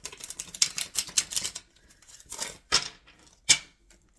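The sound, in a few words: tarot cards being shuffled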